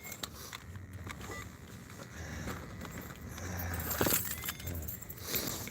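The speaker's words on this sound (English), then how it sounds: "So let's get the keys and then go to the van." Bunch of keys being fetched before heading out to a van, giving bright metallic jingles that cluster near the end, over steady low background rumble, with no talking.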